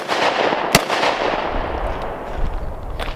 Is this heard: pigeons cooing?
no